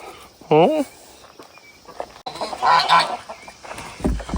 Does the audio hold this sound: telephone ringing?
no